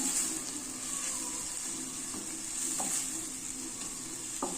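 Asafoetida (hing) frying in a pan gives a steady, quiet hiss and sizzle with a few soft clicks of stirring, heard alone with no talking.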